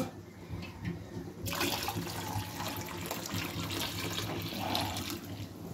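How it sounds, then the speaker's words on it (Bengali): Water poured into mashed lentils in a cooking pot for dal. A quiet trickle turns into a fuller, steady gushing pour after about a second and a half and continues without any talk. "এখন আমি এখানে পানি দিয়ে দিব"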